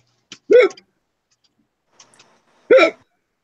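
Two sharp, loud hiccups about two seconds apart, each a short vocal jolt standing alone in a quiet room between bouts of chatter, with a faint small click between them.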